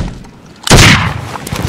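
A single loud gunshot cracks suddenly after a quiet moment, its blast trailing off into a short rumbling echo.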